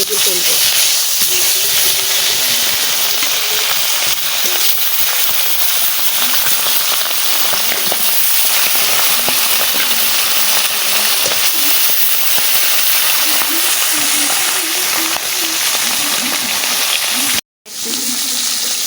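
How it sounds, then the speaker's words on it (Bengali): Tilapia fish frying in hot oil in a home kitchen, a loud, steady hiss of sizzling that continues throughout and breaks off for an instant near the end. "তেল গরম হয়ে গেছে মাছ ভাজাটা বসাই দিই"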